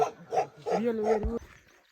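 Bhote dogs bark in a few separate barks from a short distance on a mountain trail, the final bark drawn out and roughly tonal before it fades.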